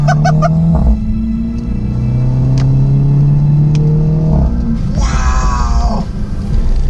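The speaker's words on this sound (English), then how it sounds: "Oh my goodness. The pops, guys, the pops." A Mini Cooper S convertible fitted with a Remus catback exhaust revs loudly and steadily, then lifts off into a burst of crackling pops and bangs from the exhaust.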